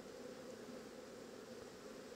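Honey bees buzzing steadily as a colony is moved into a horizontal hive with an eco-floor, a continuous even drone close by with no voices.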